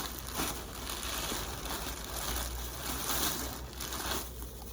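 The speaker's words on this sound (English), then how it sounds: "Sorry about the noise with the bags." Steady, close-up crinkling and rustling of plastic bags, continuous throughout with small fluctuations and no voices.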